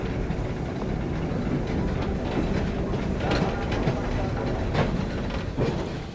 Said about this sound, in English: the whole train is heading across the Tyne to turn around